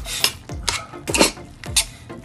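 Squid seasoned with black pepper is stirred in a cooking pan, a spoon scraping and sweeping in four or five rhythmic strokes with light sizzling beneath, close and fairly loud, no voices.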